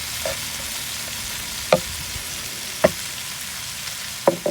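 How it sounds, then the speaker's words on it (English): Steak with onion and bell pepper stir-frying in a pan, a steady sizzle broken by three or four sharp clacks of a utensil against the pan, close and fairly loud, with no talking. "We're gonna stir this around, stir fry it"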